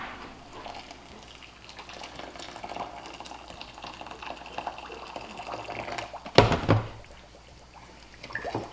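Hot water poured for a batch of sugar syrup made to feed bees, a steady running pour near and fairly quiet, then a sharp louder splash-like burst partway through before easing off.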